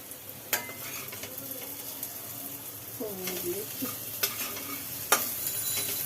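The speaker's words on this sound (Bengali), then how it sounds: "কড়ার মধ্যে আলু আর উচ্ছে ভাজা হচ্ছে" Potatoes and bitter gourd frying in a wok give a faint, continuous sizzle with occasional sharp clicks of stirring, while a voice speaks briefly over it.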